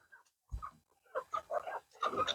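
Chickens in a newly built coop cluck in short, separate bursts: one low call, then a run of quicker, overlapping clucks that grow busier toward the end, fairly close and otherwise quiet.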